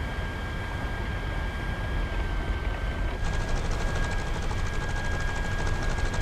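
Steady, heavy propeller-engine drone in War Thunder as a plane touches down on an aircraft carrier, with a rapid fluttering beat cutting in partway through and continuing loud to the end.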